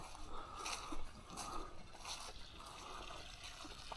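Soft, steady water trickling and splashing close by, continuous and low in level, with faint outdoor ambience and no voices.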